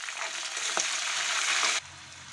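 Curry leaves, green chillies and coriander crackle in a hot tempering, a close, dense sizzle that cuts off abruptly near the end.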